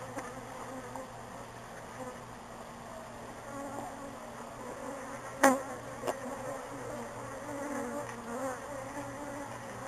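Bees buzz in a steady, low drone close by during a bee removal, with a couple of sharp clicks or taps partway through.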